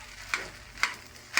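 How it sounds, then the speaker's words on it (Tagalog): An egg goes into a hot frying pan, and a soft sizzle is broken by three sharp clacks spaced about half a second apart, fairly close and not loud. "ilagay ko na yung itlog guys"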